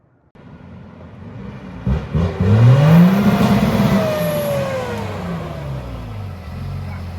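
An old Ford OBS truck engine revs up loudly nearby, rising in pitch and then easing back into a sustained drone.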